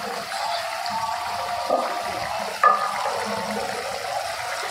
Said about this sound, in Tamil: இப்போ நல்லா வந்து கொதிச்சிருச்சு.